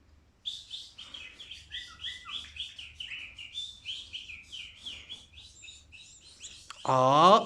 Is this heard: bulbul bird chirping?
yes